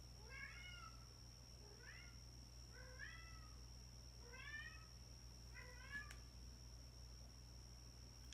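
A pet cat meows repeatedly, five distinct rising meows spaced about a second apart, close by and fairly clear over a steady low indoor hum.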